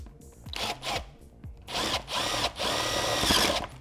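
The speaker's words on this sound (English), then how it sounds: "drilling the top end" A power drill whirs in several short bursts, then runs longer, grinding into the top end of a metal duct fitting with a high, rasping whine close to the microphone.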